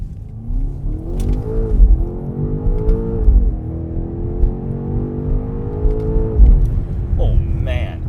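A 2024 BMW X5M Competition SUV accelerating hard, its engine climbing through the revs in a couple of long rising pulls with a brief shift between them, heard from inside the cabin under a voice.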